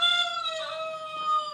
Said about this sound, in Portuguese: Como esse aqui, ó, que faz o barulhinho dos bichinhos, ó. O galo